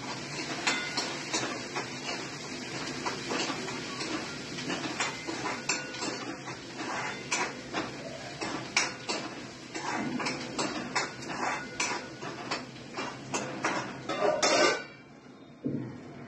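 Onion with a pinch of salt sautéing in a pan, a steady close sizzle broken by frequent clinks and scrapes of a utensil against the pan, ending with a brief quiet.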